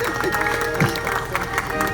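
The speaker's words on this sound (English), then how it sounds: "Let's give him a big round of applause." Crowd applause at a live political rally, a short burst of clapping mixed with crowd noise and a steady musical tone underneath, moderately loud and continuous.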